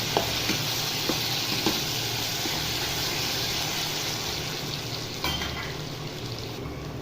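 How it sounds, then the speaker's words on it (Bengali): Onions frying with cumin and mustard seeds in a pan for a Maharashtrian shev bhaji curry, a continuous close hiss and crackle with a few stirring knocks and no speech. "পেঁয়াজটাকে ভালো করে লাল লাল করে ভেজে নেব।"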